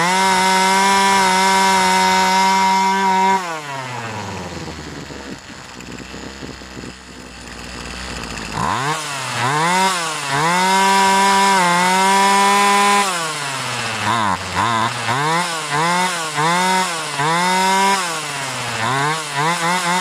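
A chainsaw engine with a suspected faulty accelerator pump runs steadily, then idles low briefly before revving up again in repeated rising and falling surges, loud and close.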